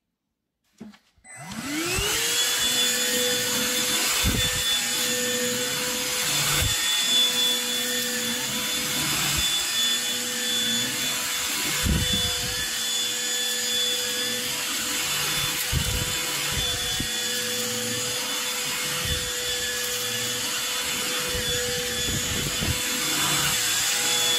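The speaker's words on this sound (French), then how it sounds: "En un seul passage, cet aspirateur rend vraiment le tapis nickel." A Bicel handheld vacuum cleaner with its motorized brush runs on a carpet, starting with a short click and then a steady high motor whine. Rhythmic dips and surges come from the brush being pushed back and forth, loud and close, with no talking.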